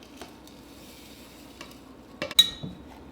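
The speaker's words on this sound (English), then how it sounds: "Just mix them through and let them soak and get soft." Quick cooking oats being stirred into milk with a spoon: soft, sparse scraping and swishing, with a couple of sharper clinks near the end, close and fairly quiet.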